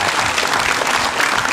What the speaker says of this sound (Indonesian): Kita beri tepuk tangan Pak Menteri.